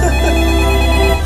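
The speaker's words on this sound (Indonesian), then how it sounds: "sebuah telepon berbunyi" A telephone ringtone plays loudly and steadily, a continuous electronic ring with layered tones and no voices.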